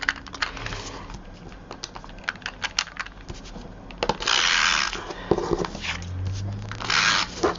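A snail tape runner clicks and ratchets as it lays adhesive onto a card base, with a quick run of small close clicks followed by longer scraping rolls of the tape across the card.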